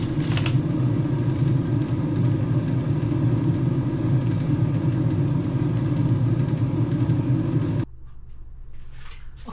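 A Cosori Dual Blaze air fryer runs during preheat, giving a steady, loud low fan whir and hum that holds for about eight seconds before dropping to a quieter hum near the end.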